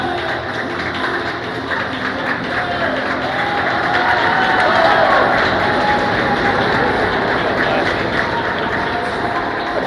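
Crowd at a youth bantam ice hockey game between Proctor and Minnetonka, a steady roar of cheering voices in an arena that swells slightly midway and holds without pause.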